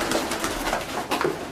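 Pigeons cooing inside a cage, several soft, low, rounded coos repeating in an irregular rhythm at close range over a steady background hiss, with no talking.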